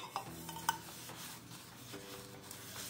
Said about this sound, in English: Now I'm going to butter the pans.